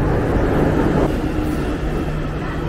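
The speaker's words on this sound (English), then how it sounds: "Okay, the train is coming." A train pulling into a station in Beijing, a steady loud rumble with a low hum throughout, close and continuous, with no talk over it.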